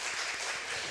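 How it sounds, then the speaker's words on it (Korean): A church congregation claps during a Sunday service, a brief, fairly quiet, even burst of many hands applauding together. "박수 한번 해줄까요?"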